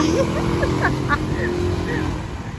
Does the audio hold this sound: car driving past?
yes